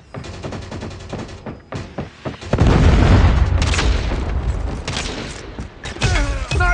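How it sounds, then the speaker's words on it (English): Predator missile strikes in Call of Duty Mobile land amid rapid gunfire: sharp shots crackle, then a massive explosion swells into sustained rumbling, with more bursts and shots following. "Predator missile inbound."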